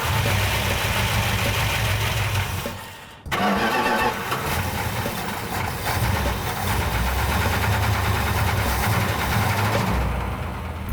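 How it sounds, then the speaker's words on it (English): A car's brand-new engine, suspected of being sabotaged with sand, runs steadily outdoors under some load. It gives a loud, continuous mid-pitched drone with a brief dip partway through, and no talk. "We're going to take the car outside and run it for a little while longer"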